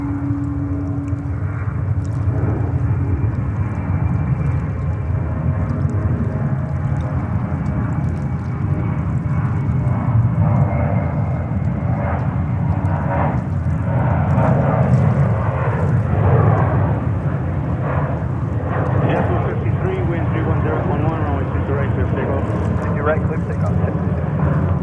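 An airliner takes off at JFK with a sustained, heavy engine rumble and roar that stays loud and steady for the whole stretch, with a low drone underneath.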